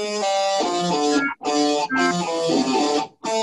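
A heavily distorted electric guitar plays a few sustained, buzzing chords close up, with brief breaks between strums.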